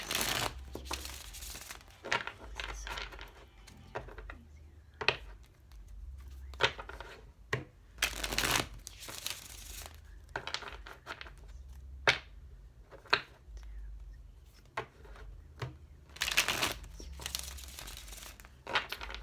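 Crisp, repeated bursts of tarot cards being shuffled, papery riffles and slaps coming in irregular clusters close by, with no talking.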